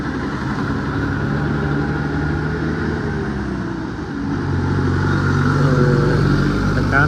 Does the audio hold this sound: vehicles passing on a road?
yes